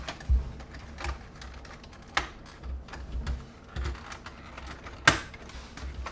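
Tight plastic snap-fit clips on a Transformers movie toy being pried apart, giving scattered sharp clicks and cracks with a few louder snaps, close and fairly quiet with no voices.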